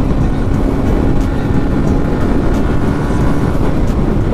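A motorcycle is ridden at speed, heard as a dense, steady roar of engine and wind buffeting close to the microphone with no pauses.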